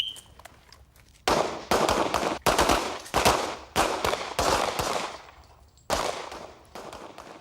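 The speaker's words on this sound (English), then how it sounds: "ldenburg from the Californian Highway Patrol practices with his sidearm" A California Highway Patrol officer fires his sidearm during practice: a rapid series of sharp, loud gunshots in quick succession, then a pause and one more shot, each ringing out briefly.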